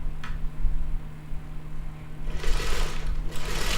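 Sewing machine stitching a quilt seam downward from a V notch, a steady close mechanical whir with faint ticking that grows louder and busier toward the end.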